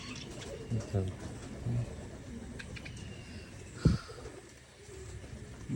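Pigeons in a village loft give soft, low cooing calls in a few short bursts, fairly near, over a faint rustling background with murmured voices.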